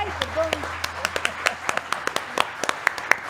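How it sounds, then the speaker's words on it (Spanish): Sparse, uneven hand claps from a small audience at a Spanish-language talk show segment, a dozen or so distinct claps spread across a few seconds, with a brief voice and tonal sound near the start. "Un aplauso, amable."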